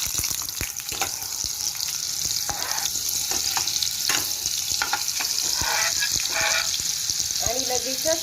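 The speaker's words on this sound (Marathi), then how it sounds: "मी इथे 1 चम्मच ऑइल गरम करून घेतलेला आहे आणि त्यामध्ये 1 बटरची वडी टाकून घेत आहे." A cube of butter hits a spoonful of hot oil in a pan and sizzles loudly and steadily, with faint scraping and clinks through it.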